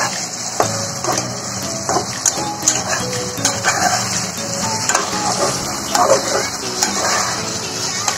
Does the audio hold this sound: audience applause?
no